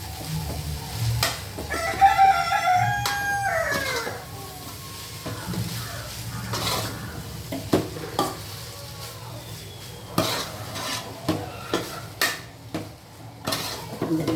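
Egg rice being stirred and flipped in a pan, with repeated scraping and clinking of a spatula against metal and a light sizzle, while a rooster crows faintly in the background.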